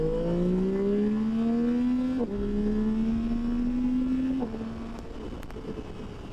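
Yamaha Tracer 9 GT motorcycle accelerating to speed, a steady engine note climbing in pitch through two clear gear shifts, then easing off as the ride quiets toward the end.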